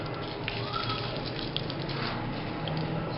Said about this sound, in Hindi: राई को थोड़ा सा मैं फ्राई करूँगा